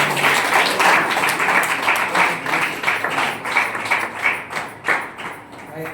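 A group of people clap their hands together on a count, a dense run of sharp claps that continues for several seconds, loud and close.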